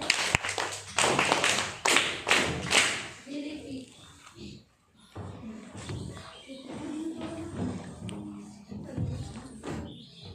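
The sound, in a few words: clapping after a school prayer song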